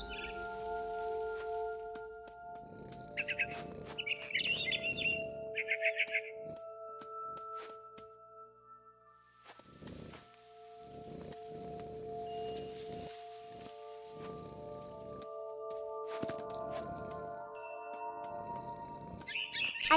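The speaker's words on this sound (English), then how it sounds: "Then I heard chirping outside my window. It was a barn swallow going back to her nest." Short bursts of bird chirping from a barn swallow in the video game What Remains of Edith Finch, heard a few times as brief high calls over sustained game music and ambience.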